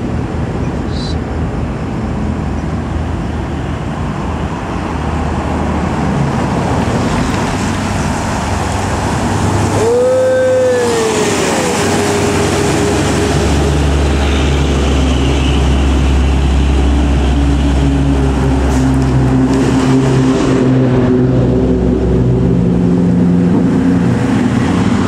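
Road traffic rumbles nearby as a large bus on a Sumatran road approaches, its engine drone swelling loud and heavy before easing off; a brief horn-like tone sounds midway.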